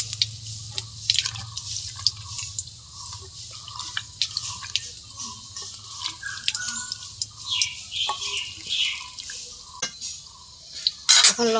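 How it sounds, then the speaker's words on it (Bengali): Water splashes and drips in quick, irregular spatters at a kitchen sink as a bottle gourd is rinsed, with a low steady hum beneath and a louder burst near the end. "আমি লাউটা ধুয়ে তুলি।"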